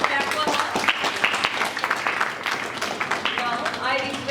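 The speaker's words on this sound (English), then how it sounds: "Please clap for her." An audience at a school debate competition claps steadily for a student speaker, with dense overlapping applause running throughout while a voice talks over it.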